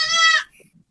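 A goat in its pen gives one loud, clear bleat lasting under half a second, close by, then a few faint scuffs before silence.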